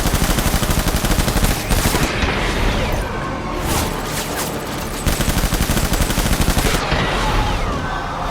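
Sustained automatic gunfire from the video game Death Stranding, rapid bursts of loud machine-gun fire rattling almost continuously, with a brief lull in the middle before the heavy firing resumes.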